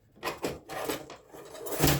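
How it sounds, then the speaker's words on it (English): Someone rummages through a drawer full of drawing supplies, with several clattering knocks and shuffles of objects sliding and bumping, close and irregular. "Sorry, I know you guys can hear all of this stuff in my"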